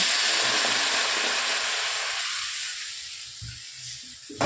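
Pitha batter frying in hot oil in a kadai, a steady close sizzling hiss that eases slightly toward the end, with a few soft clinks of utensils underneath.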